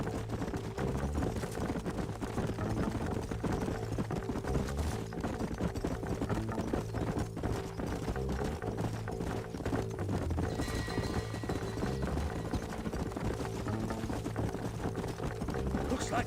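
Horse hooves clip-clop steadily in the Red Dead Redemption video game, with riders' voices talking over a continuous music and ambient game background, the hoofbeats blended into the mix rather than standing alone.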